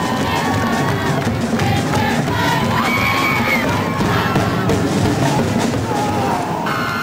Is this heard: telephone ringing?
no